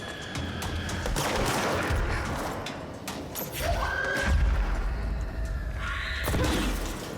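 Gunfire in the video game Control. Dense bursts of shots and thuds come thick over steady loud game noise, with whooshing effects between them.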